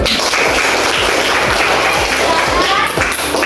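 Students in an Indonesian classroom clap together at the end of a lesson, a loud, dense burst of hand claps with some rhythmic thumps and voices mixed in.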